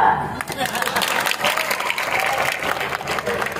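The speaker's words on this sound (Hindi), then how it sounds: "यहां बजाओ तालियां" Crowd at a political rally breaks into loud, sustained applause and cheering, dense and close, with voices shouting through it.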